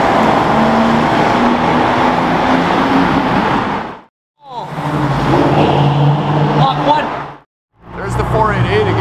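A Mercedes AMG GTR in triple-layer yellow with a stripe and a Pro Charge setup roars loudly along a street, the engine noise swelling and cutting out in two brief gaps, with people talking nearby.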